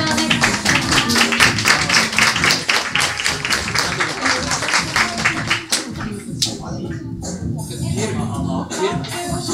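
A theatre audience at a musical performance breaks into loud, sustained applause with dense rapid clapping, which thins into scattered claps near the end.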